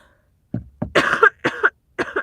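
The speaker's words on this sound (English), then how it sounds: "Got a cough." A person coughs several times in short bursts, close to the microphone, with a brief throat-clearing start and pauses between the harsh, raspy coughs.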